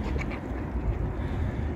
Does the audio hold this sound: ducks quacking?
yes